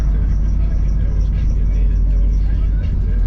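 A 400-horsepower Honda Civic with a turbocharged K20 engine rumbles loudly and steadily from inside the car, a dense low drone that holds throughout while voices talk over it.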